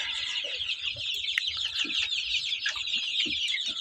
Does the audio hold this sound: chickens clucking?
yes